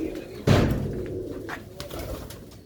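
A Sialkoti pigeon coos softly against a steady background hum, with a brief bump near the start.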